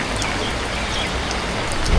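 Steady morning rainfall patters down in a dense, even wash of drops, close and continuous throughout with no voices, growing slightly louder near the end.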